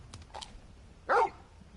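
Torgal the dog in the Final Fantasy video game lets out a single sharp bark, preceded by a couple of softer yips and snuffles, close and clear over quiet background.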